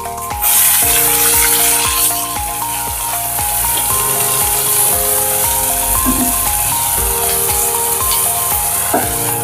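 Salted onion paste, ground from three medium onions, sizzling in spiced oil for a chicken chickpea curry, a continuous loud hiss close by with occasional soft scrapes and no talk.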